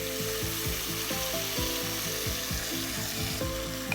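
Potatoes marinated in yogurt go into hot oil tempered with cumin, pepper and cloves, a steady loud sizzle and frying hiss with repeated scraping stirs for dum aloo pulao, close up and without talk.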